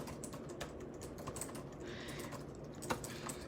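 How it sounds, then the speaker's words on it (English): Steady rapid clicking of keys on a computer keyboard continues throughout, close and moderately quiet, with no talking over it. "down here, I'll just start typing"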